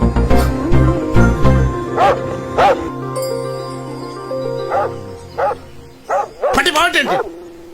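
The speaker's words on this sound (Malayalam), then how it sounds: "ഈ പട്ടി എന്തോന്ന് കൊരല്ലേ" A dog barks repeatedly in sharp, close yaps, some clustered in quick bursts, while a person talks in between.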